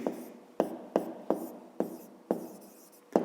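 A pen writes out a fifth-grade math solution, giving seven crisp, evenly spaced taps and strokes on paper, close and quiet, with no talking.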